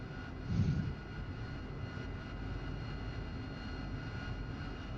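AV-8B Harrier jet engine running steadily in the DCS flight simulator, a constant broad roar with a brief louder swell near the start, close and unbroken throughout.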